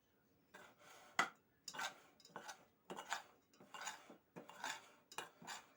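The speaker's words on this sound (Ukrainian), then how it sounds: "перемішую." A spoon stirs and scrapes a dry mixture around a pan in about eight separate strokes, each a short, close, rasping scrape with brief quiet gaps between, fairly soft overall and without speech.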